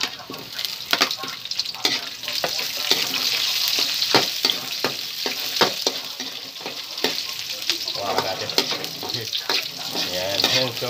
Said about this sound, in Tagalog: Yung mga maliliit na bawang, nagiging brown na siya.